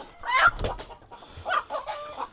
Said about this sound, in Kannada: ನೋಡಿರಿ ಈಗ ಒಂದು ಕೋಳಿ ಹಿಡಿದ್ನ ಹುಂಜ ಯಾವ ಥರ ಆವಾಜ್ ಮಾಡಾಕತ್ತೈತಿ